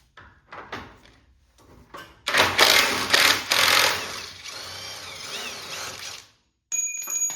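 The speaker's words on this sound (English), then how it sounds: "you can just drop a ratchet and extension right there" Ratchet with an extension turning bolts on the core support of an 89 Ford Crown Victoria, giving bursts of rapid clicking and mechanical rattling, close up, with a loud stretch in the middle and brief pauses.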